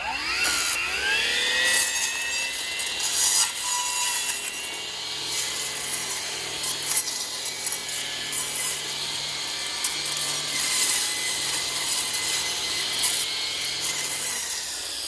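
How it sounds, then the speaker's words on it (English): A Milwaukee M18 string trimmer fitted with a Forester brush blade whines at a high, steady pitch as it spins up and slices through small brush, with rustling and ragged cutting crackles throughout, close and continuous. "So let's go ahead and get to cutting this brush."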